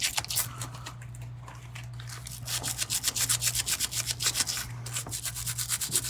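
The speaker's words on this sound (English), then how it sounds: "Nice thing about these nylon brushes is even if they don't fit in the cracks, you can just kind of go at it." Nylon brush scrubbing the handles of a vintage Swiss Army knife: close, rapid back-and-forth rubbing strokes repeating throughout, over a steady low hum.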